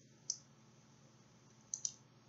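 Three sharp, faint computer mouse clicks, a single one near the start and then a quick pair close together near the end, against a quiet background hum.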